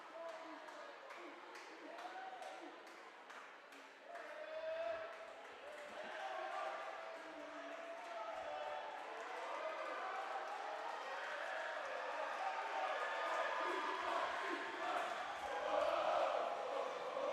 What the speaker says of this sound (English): Very loud Unity Christian gym.